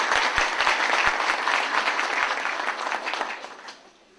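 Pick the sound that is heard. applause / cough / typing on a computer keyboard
applause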